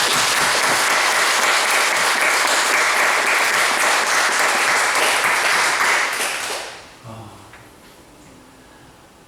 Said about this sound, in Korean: 그 하나님께 영광의 박수 올릴까요?